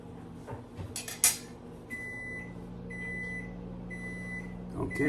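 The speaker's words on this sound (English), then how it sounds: "that's my microwave timer" A kitchen microwave oven timer beeps three times in evenly spaced electronic bursts while chicken teriyaki cooks, under a steady hum of background noise with some earlier clinks of dishes.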